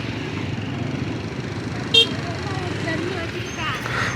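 Steady road traffic rumble in Hosur with a brief car horn toot near the middle, and people talking underneath.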